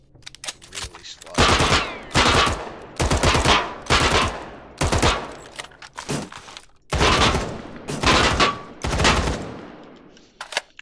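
An M4 rifle firing full-auto in the game Badlanders: about nine separate bursts of rapid gunshots, loud and close, broken by short silent gaps.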